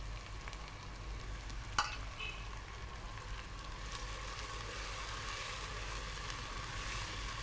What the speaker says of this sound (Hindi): ये देखिए इस तरीके से हम टमाटर को ऐड कर देंगे